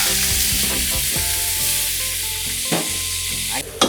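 Green chillies and onion sizzle in hot oil in a pan for Kakinada-style fish curry, a steady loud frying hiss with occasional stirring scrapes.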